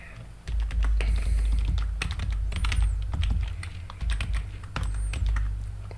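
Rapid clicking of a computer keyboard at a microcontroller workshop as credentials are typed in, with dense bursts of keystrokes and a firm press of the enter key, close and clear with no talking.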